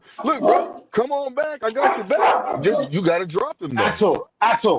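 A pet dog named Axel barks, yips and whimpers indoors, close and loud in short bursts, while someone talks over it.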